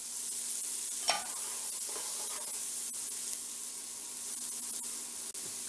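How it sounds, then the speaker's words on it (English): Onions and celery sautéing in bacon grease in a pot, a steady low sizzle and hiss with occasional stirring scrapes, close and continuous with no talking. "I'm using that nice bacon grease to saute my onions, and let me go ahead and drop my celery in as well."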